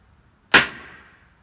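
A single sharp tap rings out as a tomahawk head is knocked onto its handle, a loud close metallic knock with a short ringing decay and no speech.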